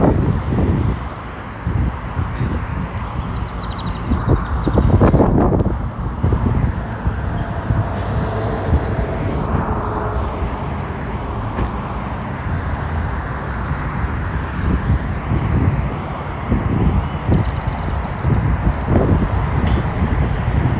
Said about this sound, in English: It's just like crazy wind.